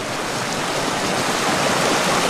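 River in the Sierra Nevada of California flowing with a steady, loud, broadband rush of water, continuous and unbroken.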